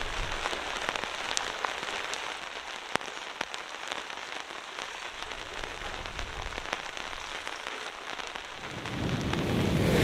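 Steady rain falls on a sailboat at sea during a passage between New Zealand and New Caledonia aboard an Allures 51.9 yacht, a dense hiss with a few sharp knocks, swelling louder near the end.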